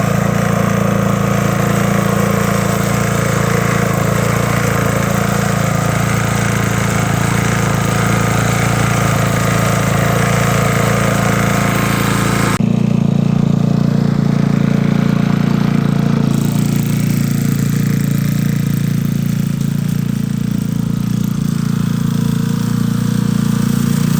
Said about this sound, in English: That is my silly modified lawnmower.